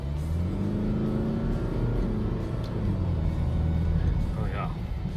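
A Jaguar F-Pace 2.0d diesel in Sport Plus mode, its engine droning and rising in pitch as it revs from inside the cabin, a steady loud rumble under a faint voice.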